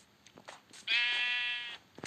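A sheep in a farming video game bleats once, a loud, clear, sustained bleat of about a second, alone with faint background sound around it.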